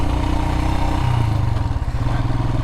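Royal Enfield Himalayan motorcycle engine chugging steadily up close, its pitch dropping and pulsing as the rider shifts down a gear, loud and continuous with no talk.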